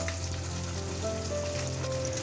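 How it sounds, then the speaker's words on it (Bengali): Pieces of katla fish frying in hot oil, turned to brown both sides; a short, continuous sizzle with a faint hum underneath and no voices. "ভালোভাবে মাছটা উল্টে পাল্টে দুটো পাশই ভেজে নিতে হবে।"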